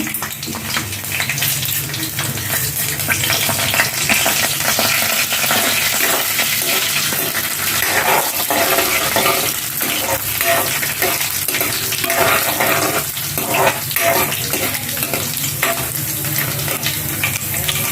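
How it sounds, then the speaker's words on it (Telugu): Chana dal, urad dal, mustard seeds and cumin frying in hot oil with ginger pieces for a traditional elephant yam and Malabar spinach curry, a loud, steady close sizzle with occasional stirring and utensil scrapes throughout. "ఈసారి శనగపప్పు మినపప్పు ఆవాలు జీలకర్ర వేసేస్తున్నాను"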